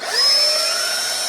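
A power drill whines steadily and loudly, close up, as the bit backs out of a hole while building a 1999 Banshee, a continuous motor tone with no pauses.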